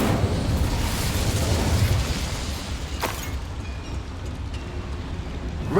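An Incendio fire spell goes off in Hogwarts Legacy as a dense roaring burst that swells and then fades, with a sharp crackle around the middle and a quieter rumbling tail, and no speech.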